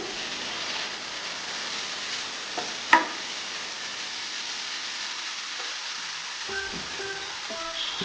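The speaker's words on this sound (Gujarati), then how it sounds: "આપણે બધા સોસ સરખી રીતે મિક્સ કરી લઈશું." Sauces for vegetable fried momos are stirred and mixed in a pan, giving a continuous soft sizzling hiss with a sharp clink of a utensil against the pan and light scraping toward the end.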